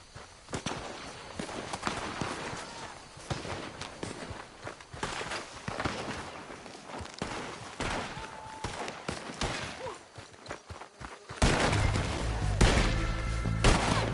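Gunfire crackles in a fight with raiders in the video game Red Dead Redemption 2: repeated sharp shots, some distant and some close, over a busy background with footsteps and hoofbeats, growing louder toward the end.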